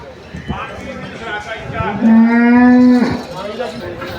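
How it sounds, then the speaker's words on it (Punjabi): A water buffalo at the Dhanola livestock market gives one loud, deep, drawn-out low close by, with other noise and brief sounds around it. "ਬਹੁਤ ਸੋਹਣੀ ਮੱਝ ਹੈਗੀ"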